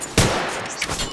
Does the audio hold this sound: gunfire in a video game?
yes